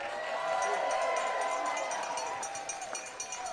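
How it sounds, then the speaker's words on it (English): Baseball crowd at Walker Stadium cheers loudly and continuously, swelling early and then easing off as scattered claps and shouts carry on. "Walker faithful cheering on DeCrona,"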